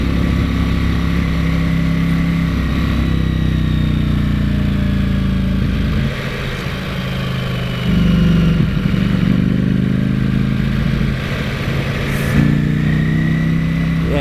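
A Ducati Panigale V4S engine runs loud and close, a deep rattly rumble with throttle changes shifting its pitch and intensity throughout, heavy and continuous.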